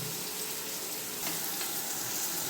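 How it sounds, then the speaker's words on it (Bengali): Potatoes frying in oil in a pan make a dense, steady hiss of sizzling, close and fairly quiet, with a couple of brief stirring scrapes partway through and no voices. "আলুগুলো সুন্দর ভাজা হয়ে গেছে"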